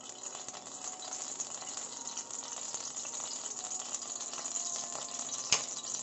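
Canola oil heating in a wok for pansit canton guisado, giving a steady, bright hiss and faint crackle with no talk over it.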